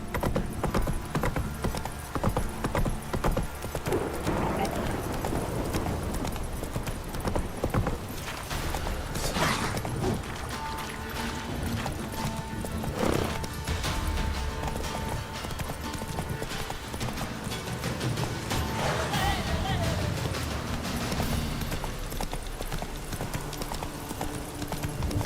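Roach the horse's hooves clip-clop steadily in The Witcher 3: The Wild Hunt, a continuous rhythmic trot with faint creaks and occasional whinnies mixed in.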